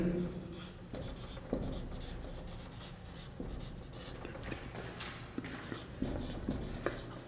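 Chalk or marker writing on a board during a chemistry lecture on osmotic pressure, a light scratchy rubbing in short strokes that continues under a man's steady speech.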